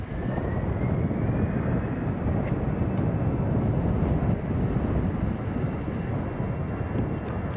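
EasyJet airliner bound for Barcelona at Manchester Airport, a continuous engine roar with a faint rising whine, fairly close and steady, with some wind buffeting and no talk.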